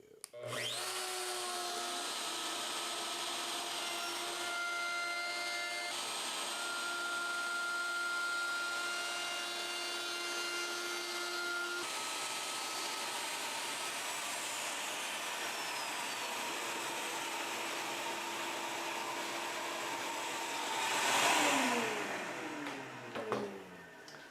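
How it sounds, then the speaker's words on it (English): A vacuum cleaner runs steadily with a loud, constant whine and shifting tones, then surges briefly near the end, in a woodworking shop. "Vacuum."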